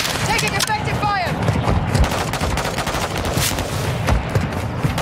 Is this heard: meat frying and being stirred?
no